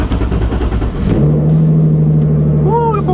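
A boosted Nissan 370Z Nismo engine cranks over and catches, settling into a loud, steady idle up close before a short rising rev at the end.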